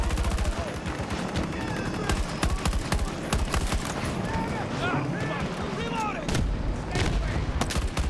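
Sniper and rifle fire crackles through a military shooter game, with repeated sharp shots in quick clusters amid battle noise and game radio chatter, while a player talks over it.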